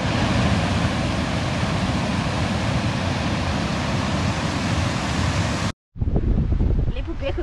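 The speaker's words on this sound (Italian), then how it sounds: "Questa è la cascata e basta." A woodland waterfall roars close by in a broad, constant rush that fills most of the stretch. It cuts out briefly, then returns more faintly with a voice underneath.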